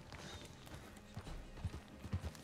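Horse hooves clip-clopping on terrain in the Red Dead Online video game, a soft irregular run of hoofbeats that grows more distinct toward the end over a steady outdoor ambience.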